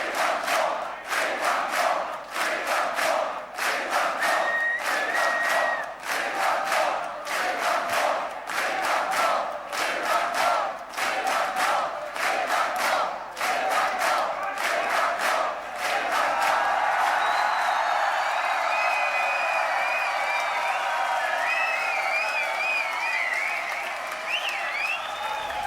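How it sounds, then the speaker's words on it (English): A concert crowd at a show chants in loud, steady rhythmic bursts, filling the hall with a dense roar that later blends into sustained cheering and whistles. "If you know what they're chanting, please let me know"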